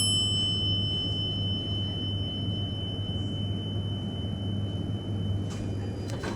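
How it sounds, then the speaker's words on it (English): A mechanical bell chime from GAL hydraulic elevators rings clearly at the start and then fades over a constant low machine hum. "we will end the video with some amazing bell chime to end it off."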